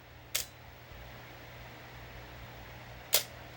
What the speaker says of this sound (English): you can tell that the shutter speed is much slower